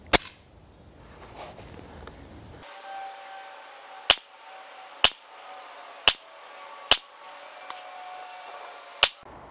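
A compact 9mm Hellcat pistol fires outdoors, with five sharp cracks spaced about a second apart plus an earlier shot, each loud and close with a quick decay.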